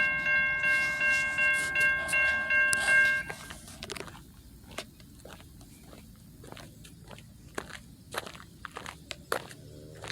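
A train passes at the Gier Road crossing, its horn sounding in steady repeated blasts for the first few seconds before giving way to quieter rolling clatter and scattered clicks from the wagons going by.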